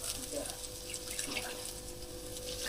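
A little water poured into a cooking pan holding galangal, lemongrass, bay leaves and lime leaves makes a soft, steady running wash, faint and continuous for a few seconds with no talking over it.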